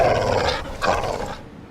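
Cartoon dog Frisket growls, a loud close rumbling snarl in two swelling bursts that fades toward the end, with no talking.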